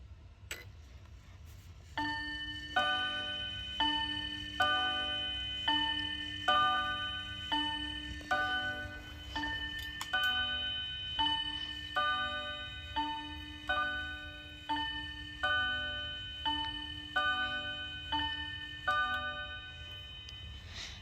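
A Tempus Fugit wall clock ticks in a regular, even rhythm indoors, each beat accompanied by bright ringing tones, clear and close against a quiet room.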